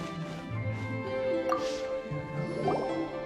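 Water being collected in the game Genshin Impact, with drips and a squishy liquid plop over a steady background of music and ambience.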